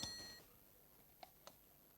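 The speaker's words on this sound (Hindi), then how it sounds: "इस घड़ी का अलार्म 2 बजे बज रहा है।" An electronic alarm clock sounds a short burst of bright beeping at 2 a.m. in a detective serial scene. The beeping fades into near silence, broken by a couple of faint clicks and a sharp noise at the end.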